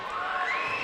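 A student crowd cheers at a high school volleyball match, a steady wash of shouting and cheering from many voices filling the gym without pause.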